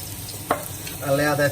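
Finely chopped garlic sizzles and crackles in a heated pan, a steady close frying hiss with a brief clatter midway and a louder surge of sizzle toward the end.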